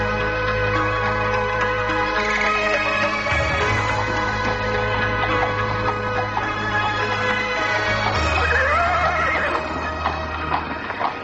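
A horse whinnies loudly and at length as a sound effect in an Indonesian radio drama, close and continuous, over a steady low drone, with no voices heard.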